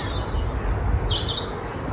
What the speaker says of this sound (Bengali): কত সুন্দর করে পাখিগুলো ডাকছিল, তাই না?